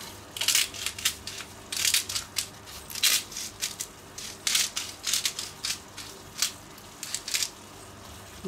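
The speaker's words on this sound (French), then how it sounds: "Et on poivre." Pepper mill grinding over a turkey risotto: a steady run of close, gritty crunching bursts in quick irregular rhythm, moderately loud with nothing else heard.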